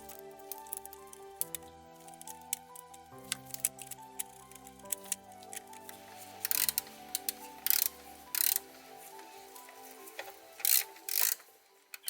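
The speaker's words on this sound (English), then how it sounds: "Now I'm installing the new bolts on the support bearing." New bolts are fitted and tightened on the cardan shaft support bearing of a 2015 Porsche Macan S. Quiet metallic handling gives way to short bursts of ratchet clicking, over faint background music.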